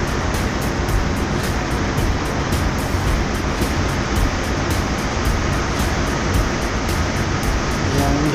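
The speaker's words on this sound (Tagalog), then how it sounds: "ganyan po kalakas ang buga ng propeller kapag bumibuelo" A ship's propeller churns the water of the Kiel Canal as the vessel picks up speed, a steady, loud rushing wash that holds without a break throughout.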